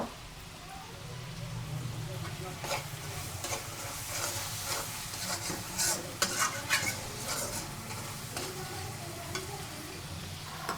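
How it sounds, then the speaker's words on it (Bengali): A spice paste for a radish and fish chorchori is stir-fried in a pan with a continuous sizzle, soft scraping and clinks from stirring, and occasional louder crackles. A voice talks faintly in the background. "মশলা কষাচ্ছি"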